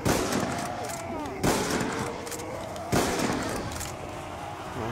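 Gunfire in a zombies video game, three loud booming shots roughly every one and a half seconds, each with a long decaying tail over busy background game noise.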